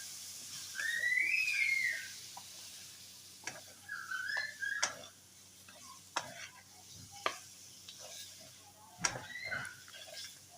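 Turmeric, salt, ground cumin, crushed red chilli and spice mix roasting and being stirred in a pan for chicken chana dal, with a soft sizzle under repeated scraping strokes of a spoon and a few faint whistle-like tones, no talking.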